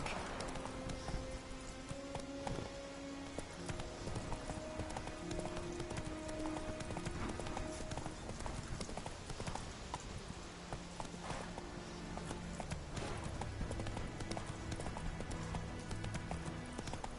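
Hoofbeats of the horse galloping in The Witcher 3 video game, fast and continuous within a dense, busy game soundscape of music and effects.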